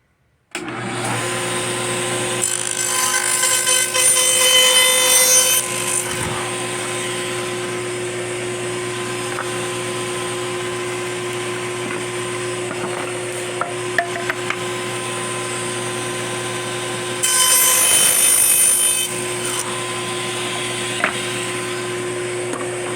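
Cedar fence pickets cut on a saw guided by a miter gauge; a steady loud motor drone runs throughout, with two brief louder cutting passes near the start and again toward the end, no talking.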